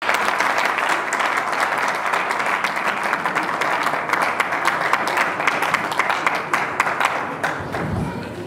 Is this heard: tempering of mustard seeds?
no